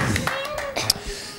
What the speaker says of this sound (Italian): Bravi, Babbo, applauso